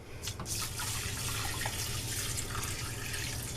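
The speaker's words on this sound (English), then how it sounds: "Just put your water in." Water pours steadily into a cooking pot on a stovetop before rice is cooked, a continuous close rushing and splashing stream with no pauses.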